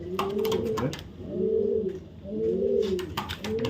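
Racing pigeons, including a red female, coo in repeated soft, throaty, rolling calls close by, accompanied by light fluttering and shuffling sounds.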